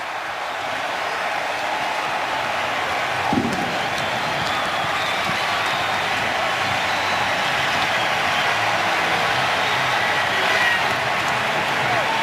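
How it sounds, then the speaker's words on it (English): A Buffalo Bills football crowd roars steadily after a touchdown run, a dense, sustained wash of cheering and noise that holds loud for the whole stretch without letting up. "That touchdown certainly excited this Buffalo Bills crowd"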